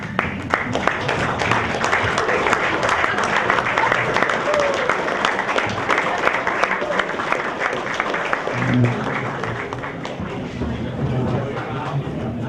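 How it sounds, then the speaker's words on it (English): Cadets applaud their parents at a graduation senior luncheon, a steady, dense round of clapping that fills the room for the whole stretch, with crowd murmur and some voices mixed underneath. "I'd like all the cadets to give their parents a round of applause"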